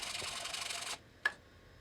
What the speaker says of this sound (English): Just sanding off my layout marks